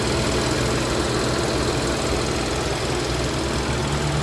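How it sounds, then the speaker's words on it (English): A typical four-cylinder car engine with a slight shake idles close by, a steady rough rumble with faint knocking vibration, no voices over it. "Typical 4-cylinder. It's got a little bit of a shake to it."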